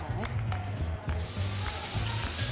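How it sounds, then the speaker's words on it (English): Food sautés in extra virgin olive oil in a pan, a continuous low sizzle close by, with a few soft knocks from the pan and a faint background hum. "we're going to saute these up real quick"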